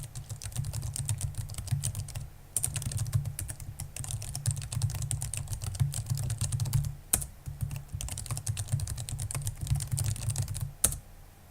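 Steady typing on a computer keyboard, fast continuous key clatter close by with two brief pauses, no voices.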